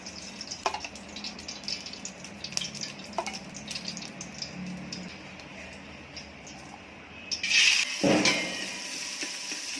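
Basmati rice roasting in ghee in a pan gives a faint, steady crackle with occasional scrapes and clinks of a spoon, growing louder and sizzling near the end, close by with no talking.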